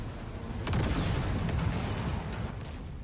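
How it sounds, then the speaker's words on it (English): Explosions boom at the start of a race in the video game Ascent Rivals, on the Dunes track, forming a dense, rumbling roar that holds steady for a few seconds without speech. "Explosions already starting off."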